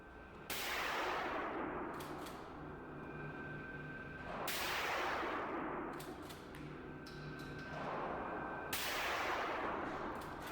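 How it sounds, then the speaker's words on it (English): Three loud Remington 870 pump shotgun blasts with Federal slugs, spaced about four seconds apart outdoors, each a sharp crack trailing into a long rolling echo. "Man, I love shooting that Remington shotgun."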